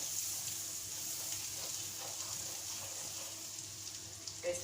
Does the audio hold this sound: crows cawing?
no